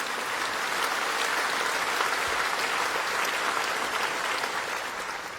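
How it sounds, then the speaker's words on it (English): A large audience claps steadily at a summit opening ceremony, producing a continuous wash of applause that tapers slightly at the end. "Let us give them a big round of applause for that."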